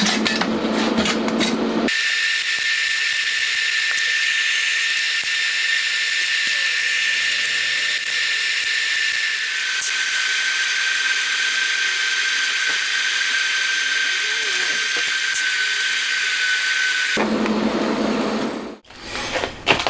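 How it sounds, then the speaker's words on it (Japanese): An electric arc welder runs a long continuous weld on a steel frame for a crankshaft polishing tool, giving a steady, loud buzzing crackle that starts abruptly and cuts off near the end, with brief handling noise before and after. "全体を本溶接していきますね"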